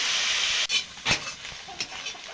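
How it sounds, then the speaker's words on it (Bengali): Cauliflower frying in a pan, a loud steady hiss that cuts off abruptly, followed by a few stirring clatters and softer sizzling bursts. "ফুলকপিটা একটু অনেক সময় ধরে ভাজা করতে হবে, এটা ভাজতে একটু টাইম লাগে।"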